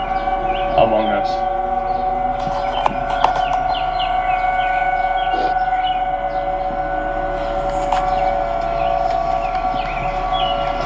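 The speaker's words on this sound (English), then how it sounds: "that's a Federal Signal Thunderbolt in the background too." A Federal Signal Thunderbolt siren sounds in the distance as a steady, faint wail under a constant electrical hum, with occasional small knocks and chirps nearby.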